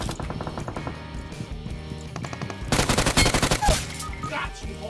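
Gunfire in the mobile battle-royale game PUBG Mobile, rapid bursts of shots layered over game music, building to a louder, denser volley near the end.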